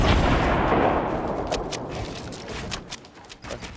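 A rocket blast in the game Fortnite opens loud and heavy, a booming rumble that fades over a few seconds into scattered sharper shots and clicks.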